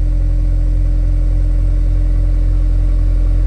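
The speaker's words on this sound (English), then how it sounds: "this is just kind of the stock idle" A 2023 Volkswagen Golf R with its stock exhaust idles close by, a loud, steady, low droning rumble that holds even throughout with no revving.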